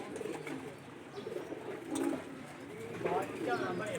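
Baby Sialkoti pigeons with black faces coo softly in low, burbling phrases at close range, with someone talking over them.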